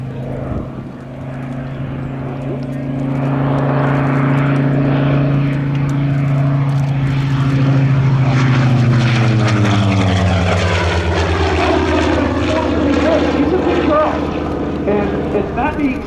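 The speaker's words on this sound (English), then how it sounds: "Let's see what the Helldiver will do for us." A Helldiver propeller warplane dives at the Geneseo, New York airshow, its loud droning engine swelling and then dropping steadily in pitch as it passes, with an announcer talking over it.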